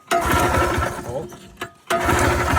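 A Polaris Trailboss 250 4x4 ATV engine cranks and catches, running loud and steady with a brief dip and sputter midway before revving back up near the mic; a voice speaks briefly over it.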